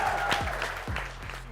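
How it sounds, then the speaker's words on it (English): An audience applauds at a celebrity talk event, with dense steady clapping and a few louder individual claps standing out. "Can we have a big round of applause, everybody?"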